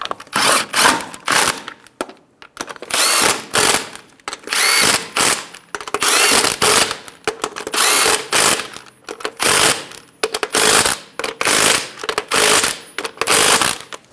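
A power tool snugs the wheel lug nuts on a 2010-2014 Subaru Outback, giving loud repeated whirring, ratcheting bursts with brief gaps, close and continuous, with no voices.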